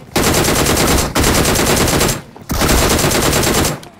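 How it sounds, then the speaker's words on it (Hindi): Close-range automatic gunfire in the mobile shooter BGMI, loud, rapid sustained bursts right up front, two long volleys separated by a brief pause, with no talking. "आज की वीडियो में जो तुम गेम प्ले देखने वाले हो वो प्योर गन फाइट का रहने वाला है"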